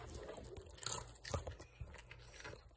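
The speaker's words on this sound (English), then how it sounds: "Charlie, here's the first. It's a pretzel. You like it? Here's another one" A dog crunches and chews a pretzel up close, giving a few sharp bites followed by softer, irregular chewing over a couple of seconds, fairly quiet and with no voices.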